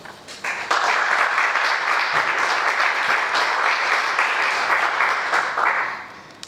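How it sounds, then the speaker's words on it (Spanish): An audience at a lecture on wars, massacres and genocides at the Ateneo de Ocaña breaks into applause to welcome the speaker, a dense, steady wash of clapping that swells quickly, holds for several seconds and then tapers off. "les invito a que le recibamos con un fuerte aplauso"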